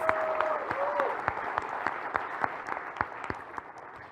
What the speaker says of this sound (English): I think we should give a big round of applause for these designers